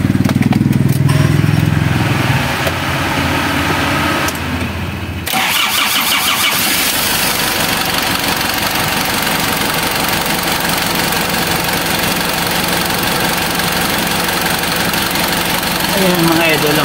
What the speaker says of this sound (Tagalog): Kaya ngayon check natin, i-start muna natin.